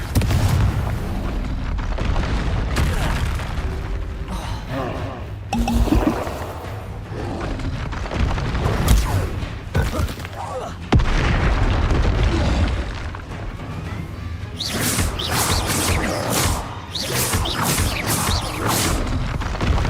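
The Confringo fire spell explodes in the video game Hogwarts Legacy amid a dense, continuous wash of loud game effects and rumbling booms, with crackling bursts toward the end.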